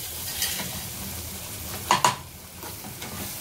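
Cashew and tomato paste stir-frying in butter for paneer butter masala, a low continuous sizzle with a couple of sharp spoon clinks against the pan midway.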